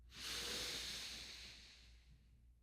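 A deep breath in followed by a long, slow exhale, one close, airy breath that swells quickly and then fades gradually, heard alone.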